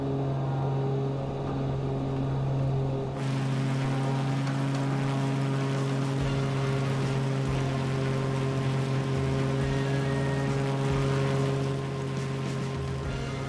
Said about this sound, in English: Lower the engine sound a little bit.